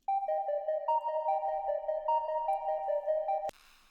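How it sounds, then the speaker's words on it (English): A synth pluck made from a simple sine wave with effects plays a bright, steady melodic pattern of clean notes for about three and a half seconds, then cuts off abruptly with a brief noisy burst. "So next I have this pluck. It's just a simple sine wave with some effects going on."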